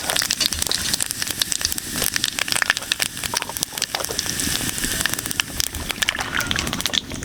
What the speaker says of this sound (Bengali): তেল গরম হয়ে গেছে, ফোড়নে দিয়ে দেবো গোটা জিরে আর কয়েকটা তেজপাতা।